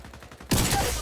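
Sudden burst of rapid gunfire in the mobile battle royale shooter High Energy Heroes, starting abruptly halfway through and continuing loud and dense to the end, preceded by quieter game ambience.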